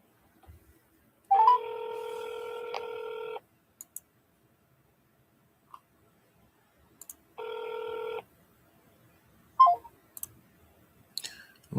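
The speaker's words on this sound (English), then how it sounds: "Did I dial the right number?" Telephone dialing on a call to a real estate lead: two long steady ringback tones, each lasting about one to two seconds and separated by silence, with soft clicks and faint rustling between them and no talking.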